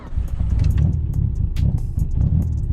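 A car engine fires and runs close and loud, with a deep, uneven rumble and small revving surges throughout.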